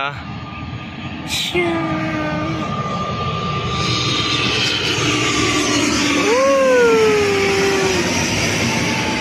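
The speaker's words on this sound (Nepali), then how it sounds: "यहाँ प्लेन आउँदैछ" An airplane's engine roar builds and holds with a rising whine, loud and continuous, as if passing low overhead.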